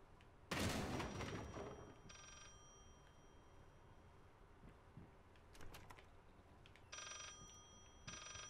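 A telephone rings inside the horror game Layers of Fear, sounding in repeated bursts of ringing over a steady noisy background, with a sharp loud crash near the start.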